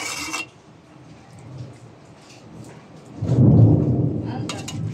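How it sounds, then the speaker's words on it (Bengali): Low thunder rumbles in from a distance and swells to a loud, drawn-out roll near the end, with a brief clatter of kitchen noise at the start and faint rain hiss beneath. "আকাশ ডাকছে, বৃষ্টি হবে তো।"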